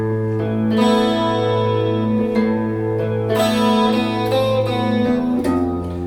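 Electric guitar rings out a slow sequence of single notes on open strings, each sustained and overlapping, with a processed, chorus-like shimmer and no talking.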